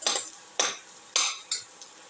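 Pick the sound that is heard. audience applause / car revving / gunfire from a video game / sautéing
sautéing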